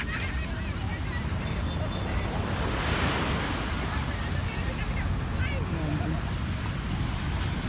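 Waves at Manila Bay overflowing onto the dolomite sand shore, a constant loud wash of surf with wind buffeting the microphone and a voice talking over it.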